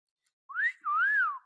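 A person whistles two notes up close: a short rising chirp, then a longer tone that wavers up and down before trailing off, with no other sound around it.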